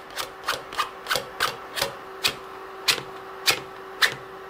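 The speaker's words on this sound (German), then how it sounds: "Den Vorrat nach hinten schieben, Palette wieder nass machen und kleine Spätzle schraben." Spätzle dough scraped off a wet wooden board with a scraper, nine or ten short rasping strokes in a steady rhythm, close and fairly crisp, with no talking.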